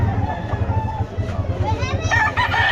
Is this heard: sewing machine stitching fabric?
no